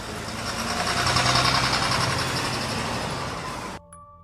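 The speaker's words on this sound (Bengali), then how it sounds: "কিছুক্ষণের মধ্যেই ইঞ্জিনের শব্দও তার কানে ভেসে আসে।" A bus engine drawing closer for an audio-drama sound effect: a steady, loud engine rumble with a mechanical whir that swells slightly and then cuts off abruptly near the end, leaving only a faint tone.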